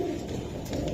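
A pair of pigeons coo softly and briefly, a low burbling call heard close by.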